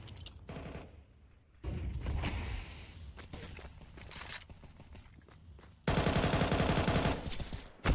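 Counter-Strike 2 gunfire shot through a wall in a pro match: loud automatic bursts rattling in fast volleys, with a dense, sustained burst near the end and footsteps and clanks between.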